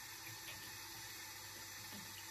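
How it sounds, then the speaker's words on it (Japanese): A broken household water tap runs nonstop, giving a faint, steady, unbroken rush of flowing water with no voices. "水止まりません。"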